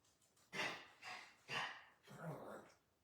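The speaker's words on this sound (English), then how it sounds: "She just barks." A dog gives a few muffled, breathy barks and snorts at a distance, four soft bursts spaced about a second apart in a quiet room.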